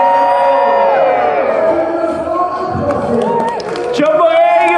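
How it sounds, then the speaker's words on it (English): A large convention crowd at a Brussels comic con Q&A cheers, whoops and shouts loudly together in a continuous dense roar that surges near the end. "give us a cheer!"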